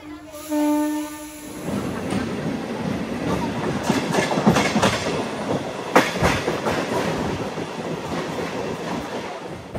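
A MEMU express train runs on rails between Kakinada Port and Visakhapatnam, with a steady loud rumble and rhythmic clickety-clack of wheels over rail joints, following a brief tonal horn-like sound at the start.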